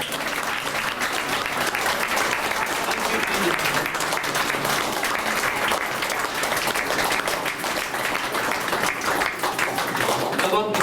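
A church congregation at a service in West Bengal applauds to thank God, a loud, continuous crowd clapping that holds steady throughout, with a voice speaking over it.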